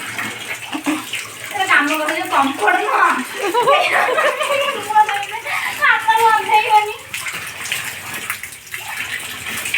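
Water splashing and running in a household bathroom during washing with soap, continuous and close, with a child and an adult talking over the sound.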